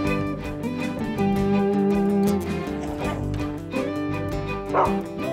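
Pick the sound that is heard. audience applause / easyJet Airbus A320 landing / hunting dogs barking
hunting dogs barking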